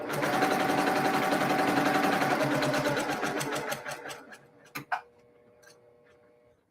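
A freshly oiled sewing machine with a new needle and bobbin stitches a quilt block, a fast, loud rattling whir for about four seconds that slows and stops, followed by a few small clicks.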